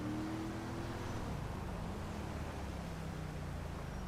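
A cement truck in the video game GTA 5 drives with its heavy engine rumbling steadily, its low drone shifting pitch as it drives on, with continuous road noise throughout.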